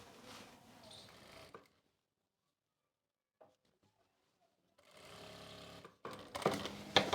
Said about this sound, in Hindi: यहाँ से यहाँ तक हम सिलाई लगा लेंगे